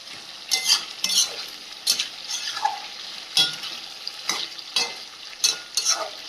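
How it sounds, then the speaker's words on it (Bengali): Country chicken meat is stirred and fried in a pan, a close, loud run of rhythmic scraping strokes over a bright sizzle, with no one talking. "মাংসটা বেশ ভালোভাবে কষিয়ে নিতে হবে"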